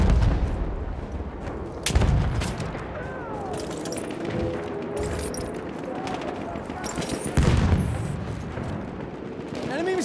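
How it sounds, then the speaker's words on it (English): Machine gun fire rattles through a Battlefield 1 conquest battle, with heavy bursts and booms near the start and again later, mixed with shouting soldier voices and constant battlefield noise. "Enemy machine gun!"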